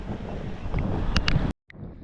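Strong wind buffets the microphone outdoors on open water during an aluminium boat test, a loud, continuous rumbling roar that cuts out abruptly near the end before resuming more faintly.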